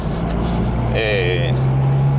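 Steady interior drone of a 1968 Mini 1275C engine and exhaust heard from inside the small car, a constant low hum throughout with a brief higher whine in the middle.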